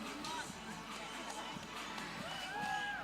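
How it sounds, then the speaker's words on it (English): A crowd of spectators at a lead climbing semi-final in Villars murmurs and cheers steadily at a distance, a continuous wash of voices and shouts. "And that is the crowd."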